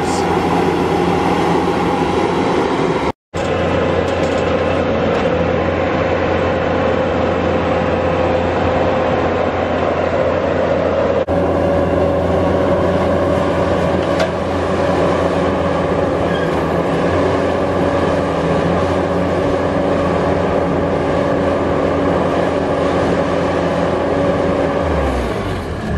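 A 30-inch auger on machinery digs post holes for a pole shed, a loud continuous engine drone with a steady tonal hum that runs close and unbroken apart from one short cut near the start.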